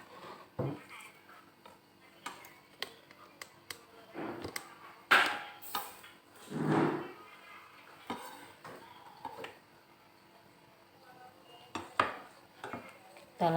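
Shrimp being finely minced with a knife on a board, heard as quiet, uneven taps and knocks close by, with occasional louder clatters.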